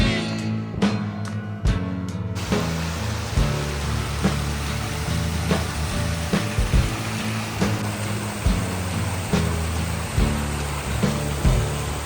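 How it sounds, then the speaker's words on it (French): A small waterfall on a mountain trek in the Sancy massif, a steady, loud, broadband rush of falling water that fills the whole stretch, with a few soft knocks layered over it. "On a trouvé une petite cascade."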